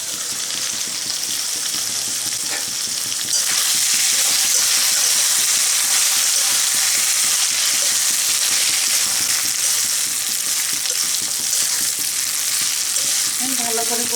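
Potato poppy seed curry with shrimp sautéing in a pan, giving a loud, steady frying hiss and sizzle that swells after a few seconds and carries on throughout, with light stirring near the end.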